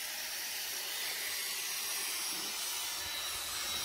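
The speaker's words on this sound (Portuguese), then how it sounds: "ele parou agora para estar amolando" Blade of a corn straw grinder being sharpened during silage making, a steady faint hissing grind that rasps continuously without break, with no voices over it.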